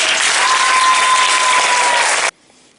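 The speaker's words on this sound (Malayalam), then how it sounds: "നിങ്ങൾക്ക് നല്ലൊരു കയ്യടി തരട്ടെ" Loud, sustained applause from a gathering at a school event in Kunnamangalam, Kerala, rolling steadily for about two seconds before ending abruptly into near silence.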